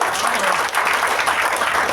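Audience applause at a direct selling business meeting: dense, even clapping from a crowd for a couple of seconds, close and moderately loud.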